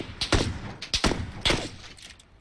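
Video game gunfire comes as several sharp, close shots in quick irregular bursts, each snapping out and decaying, with no talk over them.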